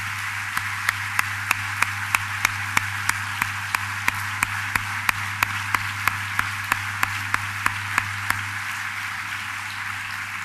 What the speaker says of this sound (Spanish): os pido un cálido y merecido aplauso